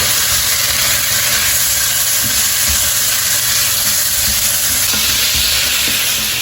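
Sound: fish frying in a pan

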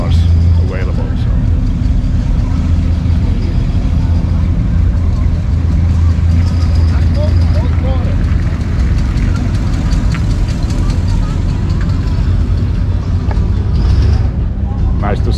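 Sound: classic American 1950s–70s cars cruising at a car meet

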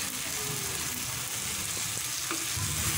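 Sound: shredded fish frying and being mixed with tomato in pan

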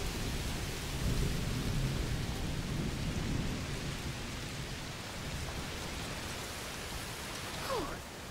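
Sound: heavy rain and thunderstorm in video game A Plague Tale Requiem

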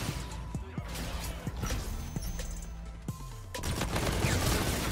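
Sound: Model 87 shotgun gunfire in video game Infinite Warfare

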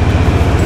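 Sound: sleeper train at Hatyai Junction station

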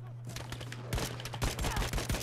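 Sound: gunfire in the video game Battlefield 5

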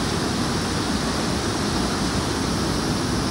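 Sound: water rushing at Kalu waterfall

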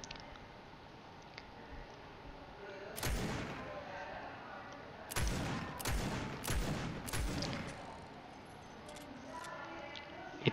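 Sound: scoped revolver shots hitting a wooden wall in a video game

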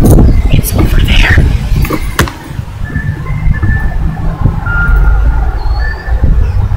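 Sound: truck reversing beeps

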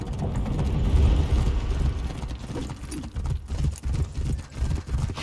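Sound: horse galloping and neighing in video game For Honor

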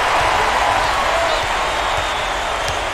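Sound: crowd cheering in basketball video game College Hoops 2K8

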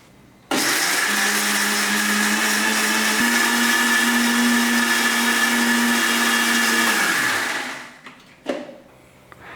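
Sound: mixer grinder grinding tomato chutney

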